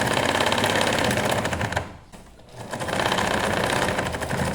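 A sewing machine runs fast and steady while stitching the seam of a pair of panties, with a dense, even whir near the mic. It pauses briefly midway, then resumes at the same rapid pace. No one speaks.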